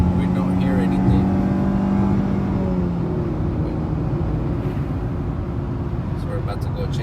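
A 2018 Chrysler 300 with its stock muffler is revved, giving a subdued, steady low engine drone that rises slightly and then settles, staying muted and smooth rather than loud.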